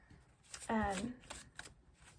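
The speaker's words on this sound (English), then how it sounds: "let me give that one more shuffle" A deck of tarot cards being shuffled in one quick riffle, soft and close, with speech around it.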